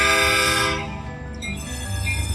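A train passes through the historic Putnam district of Zanesville, Ohio, its horn sounding loud and sustained at first, then easing off as the rumble of rail cars continues beneath.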